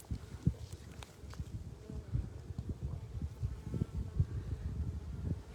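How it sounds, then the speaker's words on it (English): Honeybees buzz at their beehive, a close, continuous droning hum with individual bees swelling louder as they pass, heard alone in a quiet setting. "we are going to look into our beehive. So we're going to go real quietly and see if we can hear them buzz"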